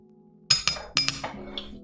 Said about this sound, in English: We're gonna grab another margarita glass